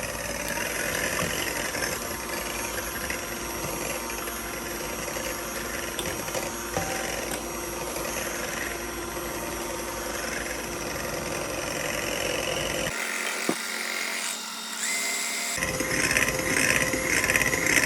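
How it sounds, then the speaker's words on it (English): Electric hand mixer whisking egg whites in a large bowl toward soft peaks for chocolate mousse, a steady close whirring drone running throughout with a brief change partway through. "We're going to put the egg whites into a larger bowl so we can mix. And we're going to mix till soft peaks."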